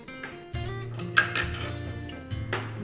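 A lid set onto a pan of softening onions for a stuffed pepper, rice and minced meat bake, heard as a couple of close metallic clinks and rattles over a low steady kitchen hum.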